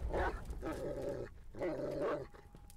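In the horror game Layers of Fear, a dog barks and growls in two rough bursts with a short pause between, loud and close, with no talk over them.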